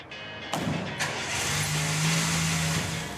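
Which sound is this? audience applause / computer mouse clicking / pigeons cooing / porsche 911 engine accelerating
porsche 911 engine accelerating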